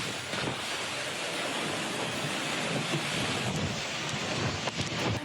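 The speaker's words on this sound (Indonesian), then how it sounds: "Angin ribut disertai hujan deras terjadi secara mendadak" A sudden storm in the village of Mangunjaya, Pangandaran, West Java, brings strong wind with heavy rain: a steady, loud broadband roar with gusty buffeting against the microphone that continues without pause.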